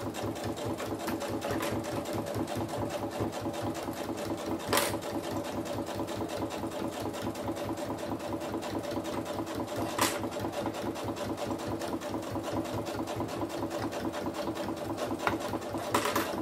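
Sewing machine running a steady rapid stitch while topstitching a lined rectangular zippered pouch through thick layers, a continuous close mechanical hum with even rhythmic clatter and a few light knocks.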